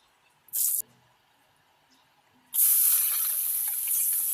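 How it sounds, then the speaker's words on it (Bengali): Gulsha fish hits hot oil in a wok with a short burst of spitting hiss, then a longer loud, steady sizzling spray of frying that carries on to the end, close by. "মাছগুলো আমি ভালো করে ভেজে নিব।"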